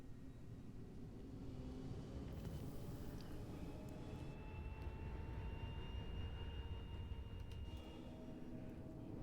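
Anvil Aerospace spaceship lifting off in the video game Star Citizen, a steady broad rumbling roar with a thin rising whine layered above it, continuous and close for several seconds.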